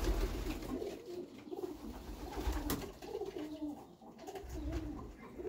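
Pigeons, light-coloured Łomża birds, give soft, low cooing calls in repeated pulses, faint and fairly close against quiet background rustle.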